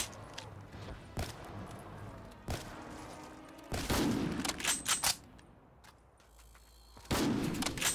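Sniper rifle gunfire in Black Ops 3 custom zombies, with several sharp, loud shots at irregular intervals and busy game noise between them, some shots trailing into rumbling echoes.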